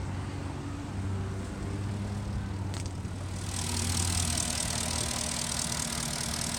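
A Porsche Cayenne 4.5-litre V8 engine idles with a steady low rumble, quiet and even, heard under the open hood, with a brief click partway through and a rise in hiss near the end.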